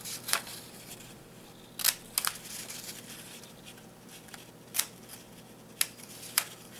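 Scissors cut paper for a 3D chameleon sculpture, giving sharp, brief snips scattered irregularly over quiet background, some spaced more than a second apart, close and fairly crisp.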